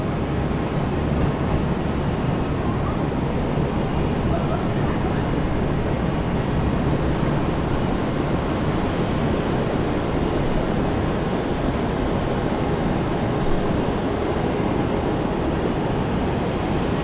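Alliance Airlines jet in a special breast cancer awareness livery passing at Brisbane International Airport during a severe storm, a steady, loud broadband roar that holds evenly throughout with no talk.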